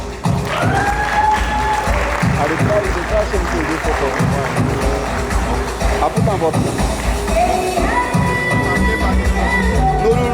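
An audience applauds steadily to welcome a speaker onto the stage at a career-growth event in Lagos, with dense continuous clapping running the whole time and some voices mixed in.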